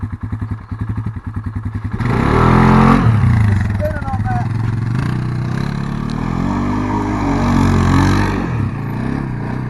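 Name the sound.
Polaris Sportsman 570 ATV engine driving in high gear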